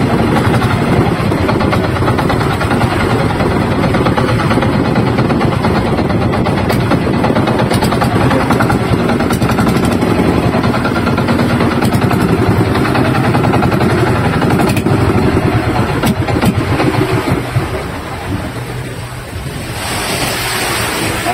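A Janzel Rex motorboat engine roars steadily and loud throughout a test run on the water, with wind and splashing mixed in, easing off slightly near the end.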